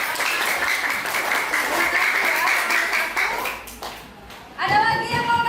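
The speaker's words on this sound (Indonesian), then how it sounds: "Kita beri tepuk tangan buat kelompok 1." Applause from a classroom group, steady clapping for several seconds that thins out, followed by a voice speaking.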